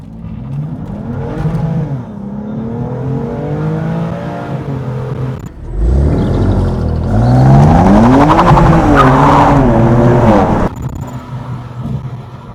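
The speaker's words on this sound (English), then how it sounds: "You test out how quickly they can accelerate. So let's do that." A close BMW M2 Competition (F87) engine revving up hard through the gears, rising in pitch, with a loud surge of acceleration near the middle before cutting off.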